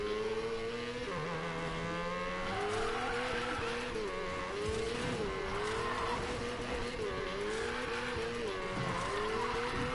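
A car drifting in the racing game Need For Speed Payback, with sustained tire squeal and skidding over a revving engine whose pitch rises and falls, loud and continuous with no speech.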